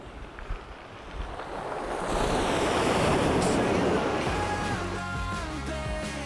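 Surf breaks over a round-pebble shore at Ojini Beach on Chuja Island, Korea, in a near, loud wash that swells midway and then eases, with some tonal sounds near the end.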